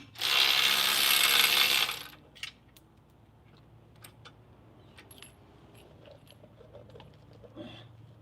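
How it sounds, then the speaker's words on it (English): A Milwaukee electric ratchet gives a loud, close burst of whirring that lasts under two seconds while hardware is swapped on a Jeep JK. Faint clinks and small metallic ticks of nuts and bolts follow in a quiet workspace. "Milwaukee electric ratchet, linked in the description. Super handy."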